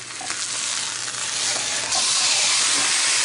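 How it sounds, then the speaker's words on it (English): Chuck roast steak searing in a hot cast iron skillet over medium-high heat, a loud steady sizzle and hiss that swells brighter partway through, close up with no talking. "So we're going to sear both sides."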